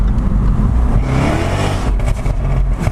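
A Jaguar F-Type SVR sports car roars as its engine revs hard and accelerates, a loud, continuous snarling growl heard close up with no talking.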